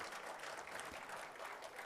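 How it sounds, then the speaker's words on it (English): Light applause from an audience at a supercomputing conference's valedictory ceremony in a full hall, a steady wash of scattered clapping that stays fairly soft and even throughout. "The hall is full, but the applause is rather light."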